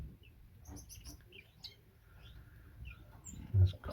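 Faint, high chirps and peeps from five nestling birds close to fledging in a nest box come in scattered bursts, with soft rustling and a low thump near the end.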